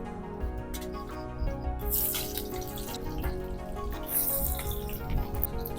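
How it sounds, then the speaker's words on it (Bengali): Cubed potatoes fry in a generous amount of hot mustard oil with a steady, close hiss and crackle, with occasional sharper spatters, for a Bengali prawn dopiaza. "এবারে আমি আলুগুলো ভেজে নেব"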